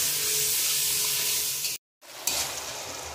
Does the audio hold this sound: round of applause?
no